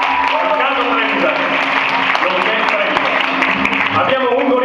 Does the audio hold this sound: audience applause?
yes